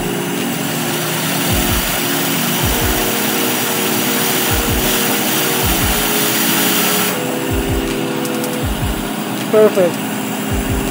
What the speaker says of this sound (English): Now it's sharpening the knife.